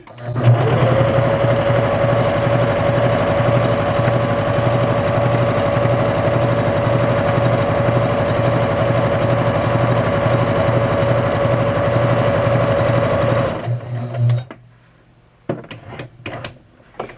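A Juki HZL-K85 sewing machine runs a straight stitch in a long, steady, loud mechanical whir with rapid rhythmic needle clatter, then winds down and stops, followed by a few faint clicks and handling sounds.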